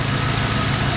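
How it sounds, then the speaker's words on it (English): A twin-turbo P71 Crown Victoria engine idles smoothly, a steady, close, low rumble with even pulsing and no voices over it. "this is probably one of the smoothest running engines I've ever owned"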